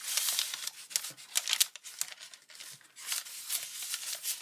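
Origami paper crinkles and rustles softly as a hydrangea model is folded and collapsed by hand, in short irregular bursts of crisp crumpling, close and fairly quiet.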